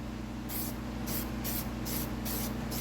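Aerosol backer paint sprayed onto a clear Lexan RC car body in several short hissing bursts, close and steady, with brief pauses between passes and no talking.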